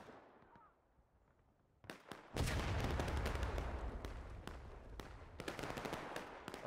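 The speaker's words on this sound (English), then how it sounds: "Now you got some harassing fire here from the TB." Artillery harassing fire in the War of Rights Civil War game: sharp distant booms and cracks break out after quiet, then a sustained loud rumble of gunfire and blasts with repeated impacts over several seconds.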